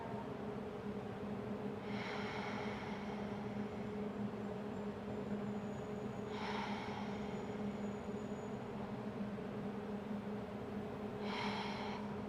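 A person holding a yoga twist draws slow, deep breaths, three drawn-out, airy inhales or exhales spaced several seconds apart over a steady low background hum, with no talking.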